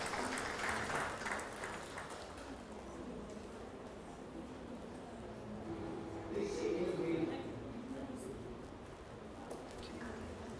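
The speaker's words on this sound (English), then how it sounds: "Round of applause once again." An audience at a university chapter launch event applauds in a steady patter of clapping that swells and eases, with talk mixed in over it.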